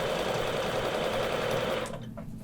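Quilting sewing machine stitching along a ruler line, a steady, fairly quiet mechanical whir running continuously before stopping abruptly near the end.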